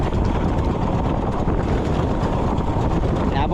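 Strong wind roaring at sea as a typhoon arrives, buffeting loudly and steadily across a fishing boat, with a constant low rumble and no voices.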